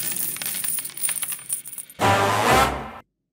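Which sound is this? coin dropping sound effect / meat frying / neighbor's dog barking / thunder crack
coin dropping sound effect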